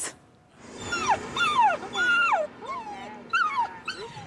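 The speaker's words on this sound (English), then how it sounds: "These cute little seven-week-old poodle pups are beginning their journey today to become guide dogs." Seven-week-old poodle puppies whimper and yip nearby in a quick run of high, sliding cries, with brief pauses between bursts.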